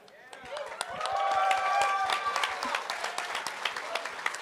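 An audience at an evening esports meet-and-greet panel bursts into applause and cheering, a dense swell of clapping that builds and then settles while a voice carries over it.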